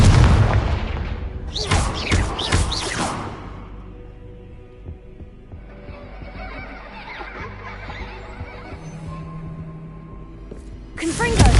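In Hogwarts Legacy, a Confringo explosion spell sets off heavy booming blasts, a cluster of loud bursts at the start and another at the end, with quieter rumbling in between and a voice speaking at times.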